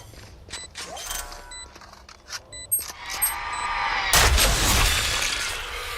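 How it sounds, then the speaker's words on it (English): A Valorant swarm grenade being deployed: small mechanical clicks and metallic chirps, then a loud rushing burst of clattering, crackling noise that carries on to the end. No one talks over it. "Swarm grenade out."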